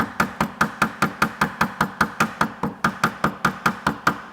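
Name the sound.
hammer tapping a Vespa P200 part over a workbench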